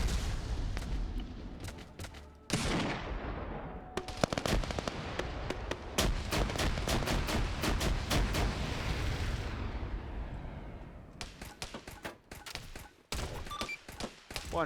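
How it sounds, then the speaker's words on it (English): Turret gunfire in the video game Mass Effect: rapid bursts of sharp, crackling shots in dense volleys, fairly loud and continuous with brief pauses between salvos. "I did set up quite a few turrets in here."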